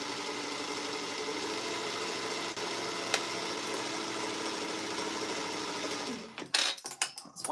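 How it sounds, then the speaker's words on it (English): A cylinder arm sewing machine stitches in a steady, continuous mechanical whir for about six seconds, close and fairly loud, then stops and gives way to a few clattering handling noises. "I love my cylinder arm machine,"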